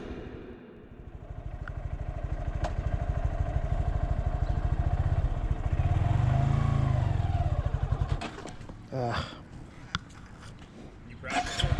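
A Honda Grom ABS motorcycle engine chugs and revs along a street in a single gear as the rider learns, the pulsing drone rising toward the middle before fading, with brief clatter and other sounds near the end.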